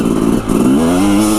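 Dirt bike motorcycle riding off-road at Hollister Hills, its engine loud and close, rising in pitch as it accelerates over rough ground with some clatter from the trail.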